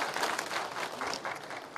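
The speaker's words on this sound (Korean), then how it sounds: "뜨거운 박수 부탁드리겠습니다" Applause fills a Democratic Party delegate-vote count announcement at the Jeju primary, a steady crowd clapping that carries on throughout at moderate volume with no speech over it.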